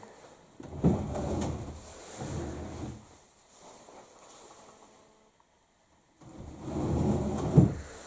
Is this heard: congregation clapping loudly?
no